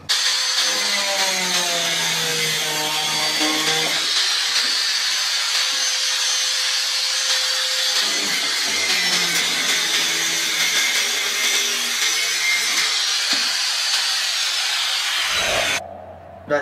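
Continuous close-up sawing through the handle of a carbon Guang Yu 4U badminton racket, a rasping, grinding tool noise with shifting pitch, running steadily before cutting off near the end.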